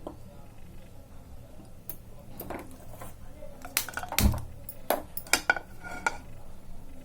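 A metal pan is set on the stove before frying a sweet modak filling, with sharp clanks and rattles of cookware grouped toward the second half over low kitchen background.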